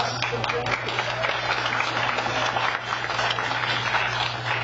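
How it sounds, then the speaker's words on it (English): Audience applause in a township meeting room for the Lockport Police Department, steady dense clapping over a constant low hum, with some voices mixed into the crowd noise throughout. "Give them a good round of applause."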